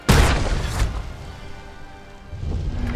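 A ballista in Conan Exiles fires and strikes with a sharp, heavy boom that decays into a rumbling tail, followed by a quieter thud near the end.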